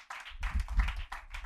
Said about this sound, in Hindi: प्रभु को धन्यवाद दीजिए ताली बजाकर